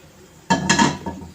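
Cooked spicy chicken pizza topping scraped and dished out of a pan, a short burst of clinking metal and spoon scraping that starts abruptly midway, with a second scrape shortly after, close and moderately loud.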